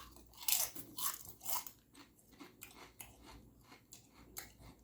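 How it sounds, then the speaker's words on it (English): Close, crisp crunching and chewing of a chip during a mukbang of Italian beef and gyros, with repeated bites and chews over several seconds and no talking. "I know I chewed that chip kind of funny."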